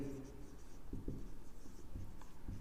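A pen scratches across paper while a quadratic equation is written out, making soft, quick, close-up strokes in short bursts against a quiet room, with a voice faintly present.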